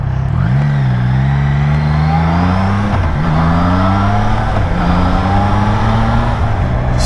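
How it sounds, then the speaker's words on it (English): Triumph Trident inline-triple motorcycle engine heard loud and close while riding, with steady smooth droning and several rising revs through gear changes that drop back between shifts, no voices over it. "It's smooth, inline triple engine, as you know, with Triumphs."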